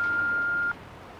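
An answering machine gives a single steady electronic beep lasting under a second, clear and alone before cutting off to quiet line hiss.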